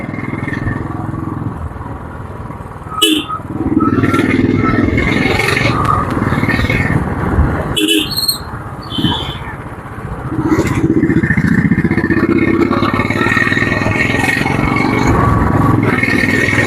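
A motorcycle rides along a road on an easy route toward Thrissur, its engine droning steadily and close, with two sharp clattering bumps and passing traffic noise along the way.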